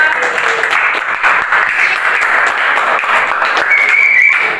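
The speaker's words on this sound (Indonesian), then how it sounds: "beri tepuk tangan untuk kelompok 2" A classroom audience claps for a group after its presentation, with steady, fairly loud applause and a brief faint whistle-like tone near the end.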